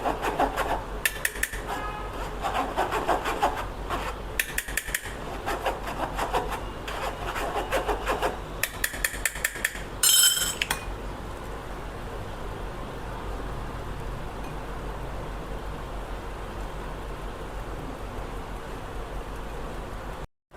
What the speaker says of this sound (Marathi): बेसन पीठ म्हणजे चना डाळीचं पीठ हे बघा असं चाळणीने चाळून घेतलं.